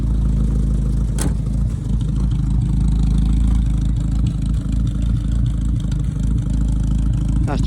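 The engine of a 1967 Morris 1100 ADO16 runs with a steady low rumble close by, with a couple of sharp clicks over it.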